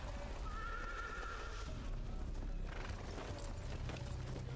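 Horses clopping and a neigh rising above a steady outdoor rumble, with hooves thudding throughout.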